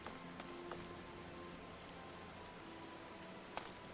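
Steady rain patters throughout in Final Fantasy XIV, a soft continuous hiss with no voices, broken by a couple of brief sharper ticks near the end.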